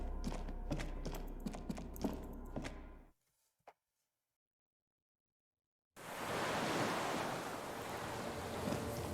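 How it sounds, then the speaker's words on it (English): Beach water and waves in the Disco Elysium video game make a steady wash of surf, quiet and broadband. A few seconds of near silence with one small click fall in the middle before the surf returns. "Nope, I hear water."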